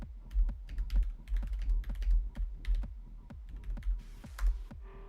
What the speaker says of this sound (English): I'm going to try to type some dumb shit